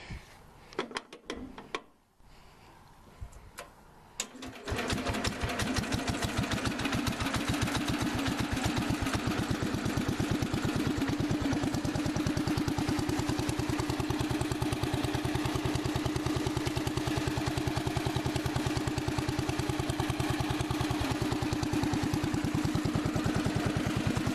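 A tractor engine cranks and catches, then settles into a steady, loud chugging idle that runs on without pause.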